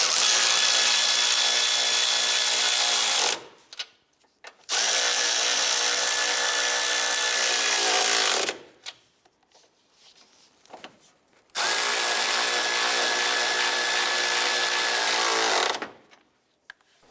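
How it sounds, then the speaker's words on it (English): Power tool tightening the 13 mm upper strut nuts on a 2011-2019 Ford Fiesta, three loud continuous whirring bursts of a few seconds each, close by, separated by short quiet gaps with faint clicks. "we're going to go ahead and tighten down the 13 millimeter nuts on the upper portion of our struts"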